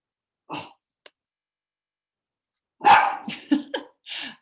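Dog barking at home: a single bark, a brief click, then a quick burst of several loud, close barks in a row against otherwise quiet.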